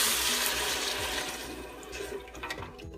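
Three cups of bone broth pouring into a pot in a home kitchen, a steady liquid splashing and gurgling that tapers off over a few seconds, close and moderately loud.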